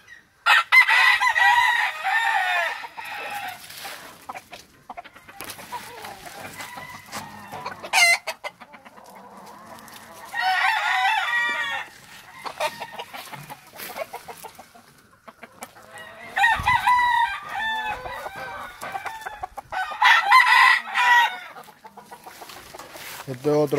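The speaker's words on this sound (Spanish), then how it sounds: "Este es otro pollo, patrón." A rooster crows loudly and repeatedly, close by, with clucking between the crows and someone talking briefly in Spanish in a farmyard setting with fighting roosters.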